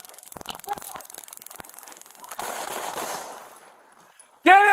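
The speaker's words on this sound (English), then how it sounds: "Shots fired!" Gunshots ring out during a police arrest of a shoplifting suspect in Pineville, a few sharp cracks amid shouting and scuffling, followed by a rough burst of noise and a sudden loud blast at the end.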